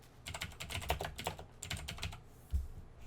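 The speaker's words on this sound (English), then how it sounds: "Like, I don't type like this anymore." Typing on a computer keyboard, quick irregular clusters of light key clicks with brief pauses between bursts, close and fairly quiet, no talk.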